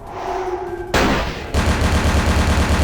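Gunfire in the video game Vampire: The Masquerade – Bloodlines, loud rapid shots that burst in abruptly after a quieter opening, then continue as a dense pulsing rattle to the end.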